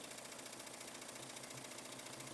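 An embroidery machine stitching out a sunflower design, a steady fast mechanical whirring hum with a continuous rapid needle rhythm, close and unbroken, with no voices.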